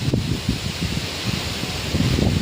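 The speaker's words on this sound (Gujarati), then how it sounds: "જો એટલો બધો પવન કાઢે।" Strong evening wind sweeps through a farm where leaves are being cut, a steady close rustle and rush of gusts with no talk.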